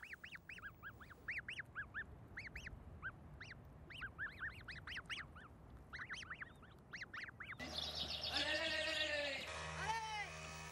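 Snow geese near the Arctic circle give repeated honking calls, a loose chorus of overlapping honks at moderate distance, and then a voice starts talking over the birds near the end.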